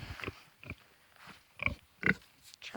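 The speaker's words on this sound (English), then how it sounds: "She's what they call a mulefoot pig." A mulefoot pig on a homestead grunts in several short, close bursts, with quiet pauses between them.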